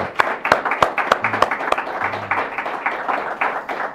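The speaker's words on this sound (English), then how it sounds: "giving this group a great round of applause" Audience applause closing an aldermanic forum broadcast on local public-access TV, a moderate, thinning patter of individual claps over roughly four seconds.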